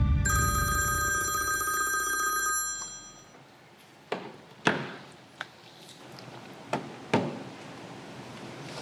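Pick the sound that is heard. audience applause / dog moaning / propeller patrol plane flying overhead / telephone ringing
telephone ringing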